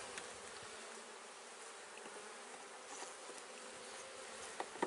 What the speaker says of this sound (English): That's a lot of bees, man.